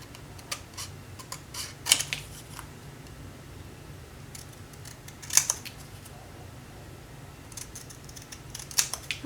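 Scissors snipping a paper sleeve for a small three-by-three box craft: a few sparse, crisp cuts spread across a quiet stretch, close and soft, with no talk over them.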